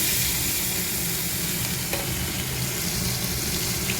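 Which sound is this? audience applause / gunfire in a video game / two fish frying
two fish frying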